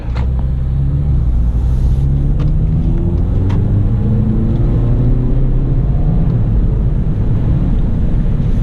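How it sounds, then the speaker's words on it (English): A 2017 Acura ILX idles in neutral with a loud, constant low rumble and drone that may be coming from the exhaust, recorded close from inside, with no talking. "the car's in neutral and is still making that sound"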